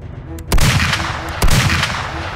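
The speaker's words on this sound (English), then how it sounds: "the deafening sound of repeated gunfire." Two loud, sharp gunshots roughly a second apart, each trailing into a rumbling, echoing roar over steady background noise, with no talking.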